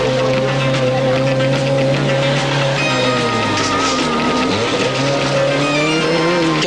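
A rally car, number 2 in the 1986 Transcongo Rally, races hard on a special stage with a loud, close engine shifting pitch, tyres squealing and skidding throughout.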